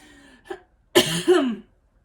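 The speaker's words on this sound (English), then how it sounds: "I didn't mean to make you guys hear me cough like that." A short throat sound, then a single loud cough up close in a quiet room.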